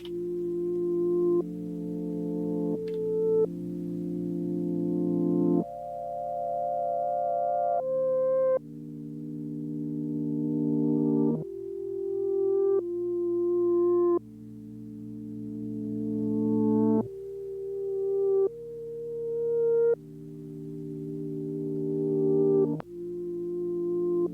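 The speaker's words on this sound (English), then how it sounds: "So you can hear the loop reversed here." A looping synth chord progression, including E flat major, played in reverse on a Digitakt and Jupiter XM for a lo-fi beat, each swelling chord fading in and cutting off abruptly, steady rhythm, no voices.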